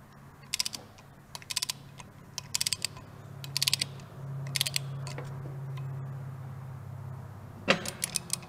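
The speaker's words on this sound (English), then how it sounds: "torque the new rear sprocket to 45 to 55 foot-pounds if using a wire wheel, or 55 to 65 foot-pounds using a cast wheel" A torque wrench tightening the new rear sprocket on a 1982–2003 Harley-Davidson Sportster during a chain conversion, heard as short bursts of sharp ratcheting clicks in a quiet garage with a faint steady hum underneath.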